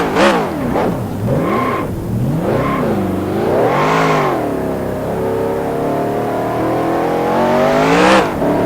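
Race car engine in the NASCAR Racing 2003 video game at Daytona during qualifying, revving steadily with rising and falling gear pitch sweeps, loud and continuous with no voices.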